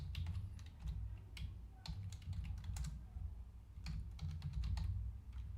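Values being typed into an Excel spreadsheet on a computer keyboard: steady bursts of close key clicks and taps over a low background hum, with short pauses between runs of keystrokes.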